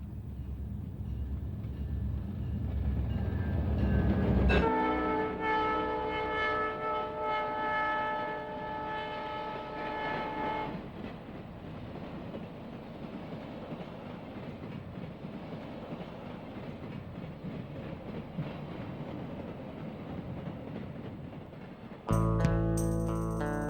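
The Santa Fe San Francisco Chief passenger train rumbles past near Martinez, California, with a horn blast sounding mid-clip and steady rolling wheel noise continuing, fairly distant, ending with a sudden louder tonal burst.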